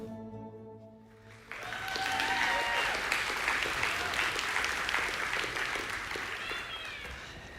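An audience breaks into sustained, dense applause to welcome Corinne Manis to the stage, swelling suddenly after a quieter tonal opening and holding steady to the end.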